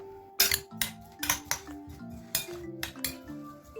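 Metal spoon clinks repeatedly against a bowl while vegetables are mixed with salt and pepper, sharp bright taps in an uneven rhythm, close and alone.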